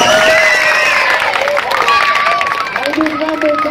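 A crowd claps and cheers loudly and up close, with a dense wash of hands and voices that holds steady and thins only slightly toward the end.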